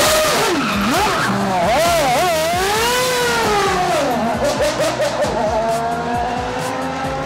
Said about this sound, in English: a Formula One car dazzled and deafened fans as it made its way through Melbourne's Italian stronghold in Lygon Street